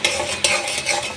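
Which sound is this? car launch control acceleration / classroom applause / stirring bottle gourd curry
stirring bottle gourd curry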